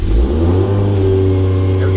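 A Toyota Supra engine turning over and revving, a loud, rough mid-pitched roar that settles into a steady idle with faint clatter, heard close inside the car.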